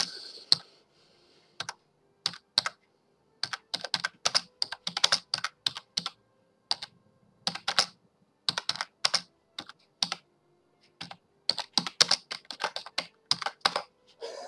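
Computer keyboard being typed on, bursts of quick, crisp key clicks in irregular clusters with short pauses between, close and clear with no talking.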